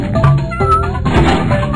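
Several loud, close meows come from cartoon cats in a game about saving kittens. They are drawn-out and overlapping, with no speech.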